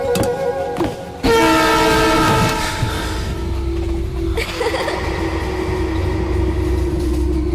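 A moving train in a film scene, with a loud horn blast kicking in after a short opening and holding over a steady rumble of rolling wagons to the end.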